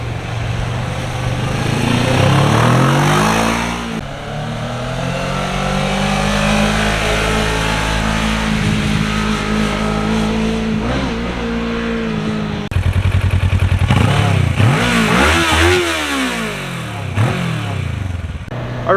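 A Kawasaki Ninja 650 motorcycle accelerates through the gears, its engine note rising and falling in loud pitch sweeps with gear changes, heard close with wind and road noise.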